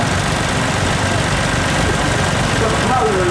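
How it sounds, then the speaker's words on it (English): A garden tractor engine running at a low steady idle at an agricultural show arena, a constant rumbling drone up close, with a faint voice near the end. "a garden tractor"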